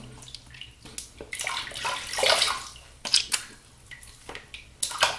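Water splashes and gurgles as a shaving brush is rinsed under a running tap after lathering with Williams mug soap, with irregular close swishes and drips, no talk.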